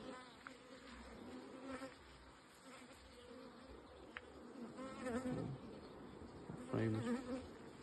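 Honey bees humming steadily around an open backyard beehive after a second brood box was added, a close, continuous buzz with louder passes as individual bees fly near.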